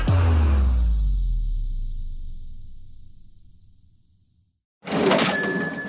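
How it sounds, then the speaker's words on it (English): A Venmo payment notification rings out as a cash register sound: a loud low-ringing chime decays over about four seconds into near silence, then a bright metallic ding and jingle bursts in. "You know that sound. It's the sound of money hitting your Venmo account"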